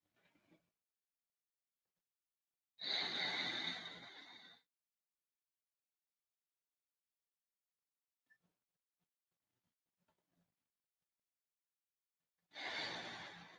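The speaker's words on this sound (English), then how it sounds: "Breathing in and out." Two slow, deep breaths during a children's meditation: a long airy exhale a few seconds in and another starting near the end, separated by near silence with faint rustles, close and soft.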